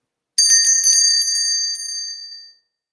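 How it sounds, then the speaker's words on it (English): A small bell rings out clear and bright alone, struck in a quick run of several chimes whose shimmering tone then sustains and slowly decays into silence. "I'm going to end with a little bell ring right here"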